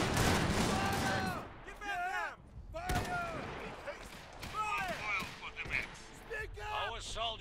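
Gunfire from an Iron Harvest battle between mechs and infantry, with sharp broadband shots and bursts scattered over several seconds amid game chatter and voiced unit lines, and talk throughout.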